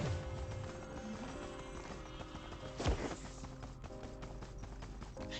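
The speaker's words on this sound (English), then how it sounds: "You can kind of hear in the footsteps" Footsteps in the video game Eclipse 7, a rapid steady run of clip-clopping steps under a layer of tonal background music, fairly quiet, with one brief sweeping whoosh midway.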